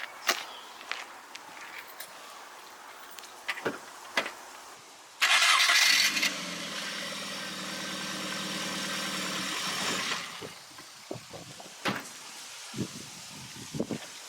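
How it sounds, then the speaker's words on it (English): An MG car with a starting issue cranks and fires up, a sudden loud burst of cranking settling into a steady idle for several seconds before cutting off, with footsteps and small knocks before and after. "I'm going to go see if the car starts."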